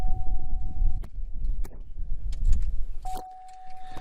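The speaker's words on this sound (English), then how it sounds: "you're going to put the key in the ignition, turn the key to on, but don't start the car" On a 2007 Cadillac CTS, keys jangle as one is slid into the ignition and turned to on without starting the engine, bringing a steady electronic chime plus clicks and a soft whirr close by.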